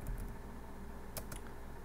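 A few quick keystrokes tap on a computer keyboard while a command is entered on a CentOS 7 system, close and fairly quiet over steady background hiss.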